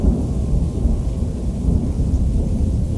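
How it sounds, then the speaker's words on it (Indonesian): A thunderstorm with heavy rain, giving a loud, continuous deep rumble of thunder over a dense rain wash. "Lengkap pakai petir."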